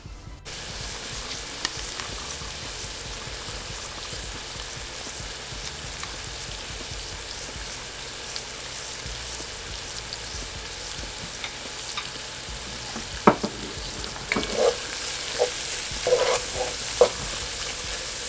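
Bacon frying in a pan with seasoning being mixed in, a steady close sizzle throughout with a few sharper stirring clicks and pops near the end.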